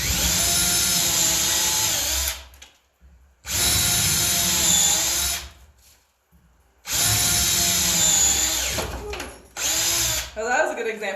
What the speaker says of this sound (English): when I drill, I just have the drill set to forward the whole time